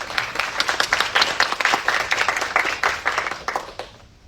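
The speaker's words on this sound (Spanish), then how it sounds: "Un aplauso, por favor." Audience applause at a university professional-practice panel, a dense, steady spray of many hands clapping throughout, then tapering off near the end.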